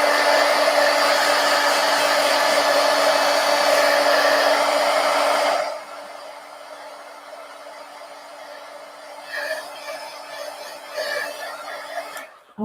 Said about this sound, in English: Let me just get my heat gun here